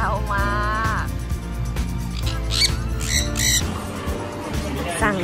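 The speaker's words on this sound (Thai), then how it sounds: "มีเสียงแจ้วมากเสียงแจ้วมาก" Loud, shrill bird squawks and chirps ring out in quick bursts on Koh Kood, Thailand, over a noisy, busy background with some talking.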